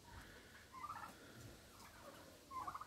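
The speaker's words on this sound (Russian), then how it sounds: "Вон, видно, прям индюшки гоняют молодежь немножечко." Turkeys in a flock chasing young birds, giving two brief faint gobbling bursts at a distance amid quiet outdoor background.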